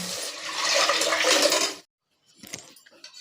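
Two cups of water pour steadily into a rice pot during outdoor feast cooking. The loud, close gush lasts almost two seconds and then stops, followed by a few light clinks.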